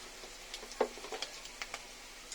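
Food frying in a pan with salt and turmeric added: a faint, soft sizzle with scattered light taps and crackles, fairly quiet and close, with no voices.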